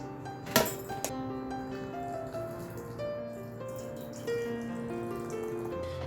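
Water pours steadily into a small single-person tea set to brew green tea, with a couple of light ceramic clinks near the start and a soft trickle throughout.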